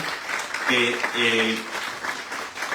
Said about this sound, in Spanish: a quien les pido un fuerte aplauso para él